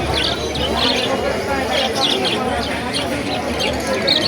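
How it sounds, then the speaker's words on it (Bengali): A flock of lovebirds chirps and twitters together in a busy, continuous chorus at a bird market, fairly close, with a steady background din. "এখানে আছে লাভবার্ড, 1 ঝাঁক লাভবার্ড পাখি"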